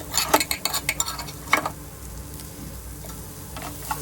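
Beetroot rice with grated coconut is stirred in a pan over high flame, with a quick run of utensil clinks and scrapes up front, then a low sizzle with occasional taps.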